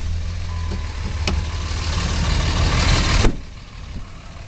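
A diesel Dodge Ram 2500 Quad Cab SLT 4WD pickup engine runs loud and steady with a deep low rumble, then cuts off abruptly near the end and leaves a quieter background.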